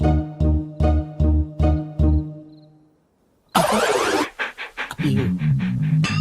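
A dog pants in a quick run of heavy, rhythmic breaths up close, then a pause followed by a burst of louder, noisy commotion, in a Telugu comedy film scene.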